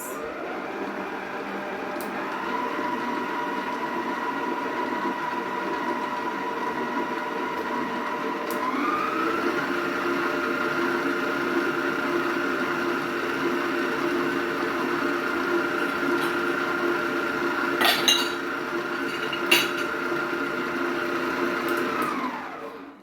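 An electric stand mixer whirs steadily as it beats oatmeal cookie dough, its motor hum stepping up in pitch partway through, with a couple of brief clinks near the end.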